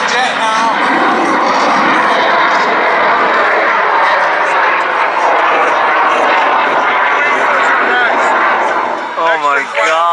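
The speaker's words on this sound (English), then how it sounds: "here comes the jet now." A jet-powered aircraft roars past at the Rhode Island airshow, a loud, continuous broadband rush filling the whole stretch, with a voice shouting briefly over it near the end.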